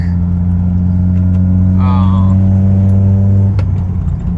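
A Honda S2000 with a Clutch Masters FX350 clutch drives on with a loud, steady engine drone from inside the cabin, its pitch dropping as it shifts near the end, with a brief chirp midway.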